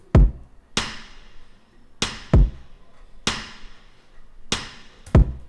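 Electronic pop verse drum pattern of a dry kick and two reverb-washed rim shots, sharp cracks and low thumps looping in a steady mid-tempo groove, loud and alone.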